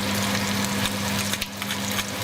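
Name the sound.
onions frying in a pan for chop suey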